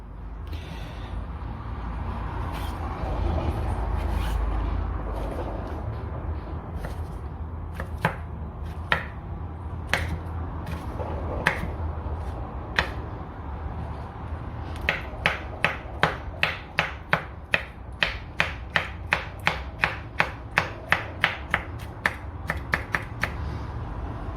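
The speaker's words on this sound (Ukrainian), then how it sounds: "Або як ріжемо маленькими кубиками." Knife taps on a board start sparse, then speed into a fast steady rhythm of dicing cucumber into small cubes, close and crisp over a low background rumble.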